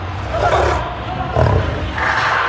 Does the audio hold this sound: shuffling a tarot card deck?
no